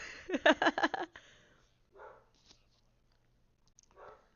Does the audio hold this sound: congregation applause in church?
no